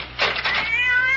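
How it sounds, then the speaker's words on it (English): A single loud, close cat meow rises into a drawn-out, wavering caterwaul lasting about a second, heard alone in a Halloween horror comedy scene. "that damn cat!"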